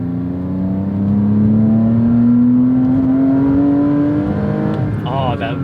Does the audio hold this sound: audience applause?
no